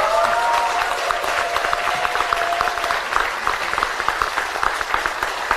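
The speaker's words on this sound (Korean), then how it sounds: "여러분의 선배, 우리들의 선배, 어머니, 누이들에게 박수를 한번 쳐드리고 싶습니다" A crowd at the opening ceremony of a Seoul women's political academy breaks into sustained, dense applause. The clapping runs steadily and loudly throughout, with a faint high tone drifting above it early on.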